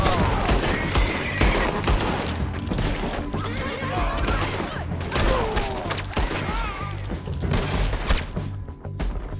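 Rapid, repeated gunfire from a Red Dead Redemption 2 shootout crackles throughout, with dense volleys and bursts layered over game ambience, occasional horse whinnies and shouted voices.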